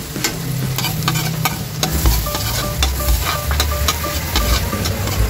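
Garlic fries in butter and a little oil in a pan, giving a loud, continuous sizzle with stirring clatter close up and no talking.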